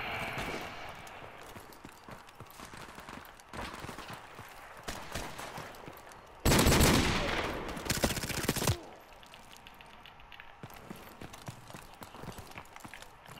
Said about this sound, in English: I got shot from the other side.